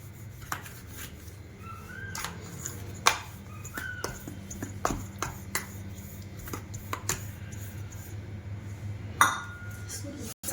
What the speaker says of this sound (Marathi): चांगलं पेल्याने दाबून घ्यायचं आपलं असं